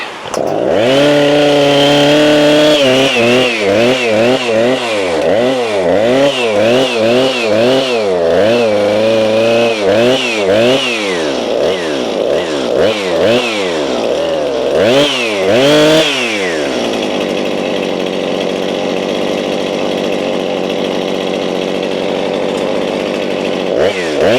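A Husqvarna chainsaw engine runs up close and loud, revving up and down in repeated surges before settling into a steady drone.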